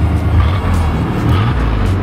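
A pickup truck's engine, its rust-damaged body just bent, revs while the truck sits in snow, a loud steady motor rumble close by with slight swells in pitch and no talk over it.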